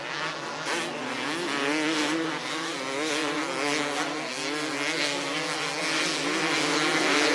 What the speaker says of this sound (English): The Finnish 250cc World Motocross Grand Prix gets underway.